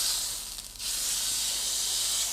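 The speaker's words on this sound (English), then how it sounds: "You want to hear that sizzle?" A steak sizzles in hot oil in a pan with a loud, steady, close hiss, briefly dipping before surging back, with no voices.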